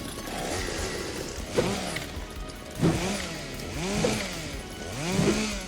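The Chainsaw Dance emote from Fortnite plays a revving chainsaw engine that surges and drops in repeated swooping bursts roughly every second, loud and buzzing over a busy mechanical background.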